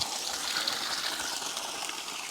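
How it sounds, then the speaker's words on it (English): Mountain river water pours steadily onto granite rocks, a constant close hiss and rush with no talking. "Look at this lush green vegetation coming from this river, just pooling down here and pouring onto these granite rocks."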